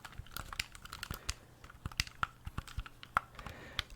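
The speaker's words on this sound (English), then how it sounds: "Okay, we have controller sounds." Close, crisp clicks and taps of game controller buttons pressed in an irregular rhythm, with sharp isolated transients against a quiet background.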